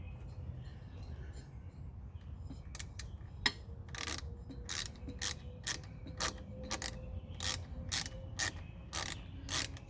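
Ratchet tightening a fastener on a 2021 Harley-Davidson Street Bob handlebar grip, a close series of sharp rapid clicks in an even rhythm after a quiet start, no talk.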